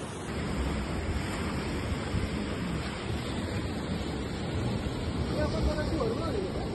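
Continuous roar of sea waves washing onto the shore at Devgad, broad and steady, mixed with wind buffeting the microphone.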